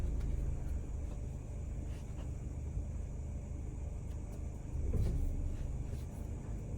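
A 2023 Toyota Yaris Ativ pulls away as the accelerator is pressed once: a steady low engine and cabin rumble that swells briefly toward the end, heard from inside the car without talk.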